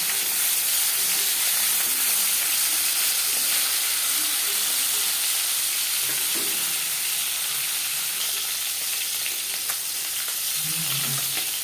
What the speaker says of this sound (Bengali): মাছ আমি হালকা করে ভেজে নিলাম